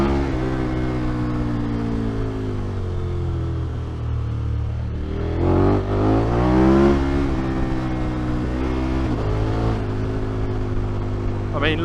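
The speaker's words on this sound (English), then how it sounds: "My exhaust is popping so much." Motorcycle engine on a French country road with the exhaust popping, a steady mid-range drone that swells and falls in pitch as the rider works the throttle, close and continuous, with some talk over it.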